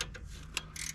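A 12-point socket on a ratchet slipping on half-inch brake bolts of a first-generation Dodge truck, giving a few short, faint metallic clicks and a sharper snap near the end, with no voices.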